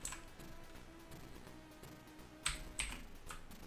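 Computer keyboard keys are pressed in a quiet run of soft clicks, with two sharper, louder taps near the end and no voices.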